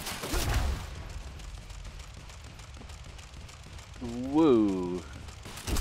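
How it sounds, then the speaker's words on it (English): Gunfire erupts in the action video game Quantum Break, scattered shots and mechanical clatter under a player's voice, with a synthetic rising-and-falling tone late in the stretch. "I'm getting shot at."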